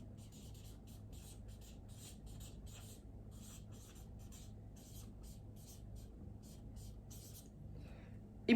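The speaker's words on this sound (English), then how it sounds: "Let me just write it down." Pen scratching across paper while notes are written, a steady run of short dry strokes, close and quiet, with a faint low hum beneath and a small bump at the end.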